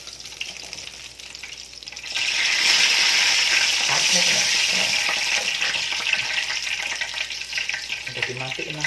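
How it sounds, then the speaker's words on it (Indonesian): Eggplant frying in hot oil, spattering loudly in a steady, dense sizzle that swells after a quieter start and keeps crackling throughout. "Digoreng baik-baik aja, muncrat."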